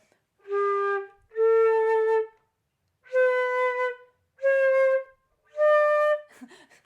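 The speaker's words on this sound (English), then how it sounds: "so that was me trying to get unclear tonguing." A flute plays five sustained notes with deliberately unclear tonguing, separated by short gaps, each starting softly without a sharp attack; the tone is clear and solo.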